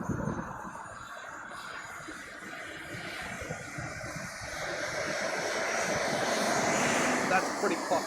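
A jet taxis in at an airshow in Gatineau, Canada, its engine a broad, steady roar with a high whine that swells gradually as it nears, while voices talk faintly nearby.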